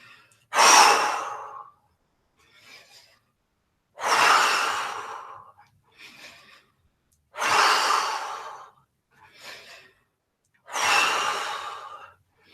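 Deep, slow breathing during a yoga exercise: four long, loud breathy exhales spaced a few seconds apart, each followed by a fainter short inhale, close to the mic with near silence between and no talking.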